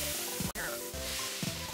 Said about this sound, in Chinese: 我可是马里奥主厨大师呢，最适合煎骰子牛